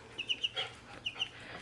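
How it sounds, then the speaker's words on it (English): Two-week-old meat chicks, all cockerels, cheeping nearby in short high peeps: a quick run of four chirps, a pause, then two more, with no voices. "those chickies are meat birds"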